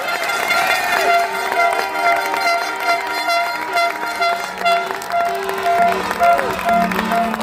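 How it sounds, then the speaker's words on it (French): Audience applause and cheering for a Vendée Globe 2024 sailor who has just completed a round-the-world voyage, dense clapping from a crowd layered with bright horn toots and tonal music. "Merci, Denis, je vous demande de l'applaudir, s'il vous plaît."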